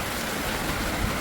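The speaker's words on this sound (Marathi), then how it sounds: "बाहेर मस्त आवाज येतो पावसाचा" Steady rain falls outside onto a soaked balcony during a monsoon downpour in Maharashtra, a dense, even hiss of drops with no gaps and no voices.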